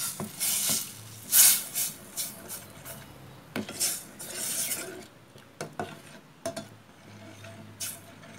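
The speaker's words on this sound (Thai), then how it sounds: "แล้วก็เตรียมเครื่องที่เราโขกไว้นะคะลงไปผัด" Pounded Thai curry paste for a coconut-milk tuna fish curry (khanom jeen nam ya) is stir-fried in a pan, giving steady scraping and sizzling with sharp utensil clanks against the pan, close and fairly loud, with no talking.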